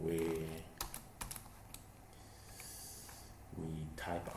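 Someone types C code on a computer keyboard in Code::Blocks, giving quick, sharp key clicks in short bursts, with a breathy or spoken sound at the start and end.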